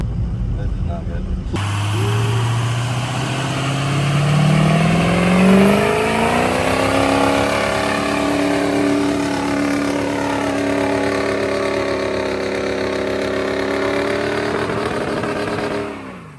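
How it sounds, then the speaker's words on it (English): A pickup truck doing a burnout, its engine revving and climbing steadily in pitch into a sustained loud roar with tire noise that holds for several seconds before cutting off abruptly. "you should let me rip a burnout on the old meter"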